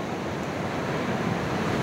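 Ocean waves at La Union surfing beach in North Luzon, a continuous loud roar of surf with wind rushing across the microphone, no voices.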